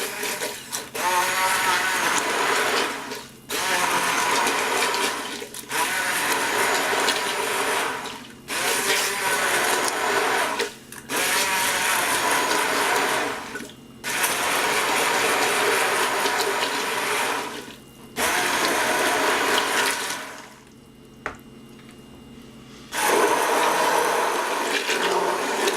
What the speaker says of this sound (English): And I'll just take my hand blender and begin to blend it all.